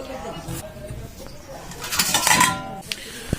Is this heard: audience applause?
no